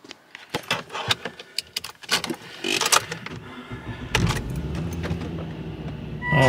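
An older car with freshly changed spark plugs and ignition coils is handled before a warm-up drive: keys jangle, doors and controls click, then the engine starts and settles into a steady idle hum.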